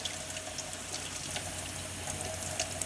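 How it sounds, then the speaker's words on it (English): Steady running water splashes continuously over broccoli, rinsing off a produce wash in a constant close, even stream. "So now I'm just rinsing the produce wash back off."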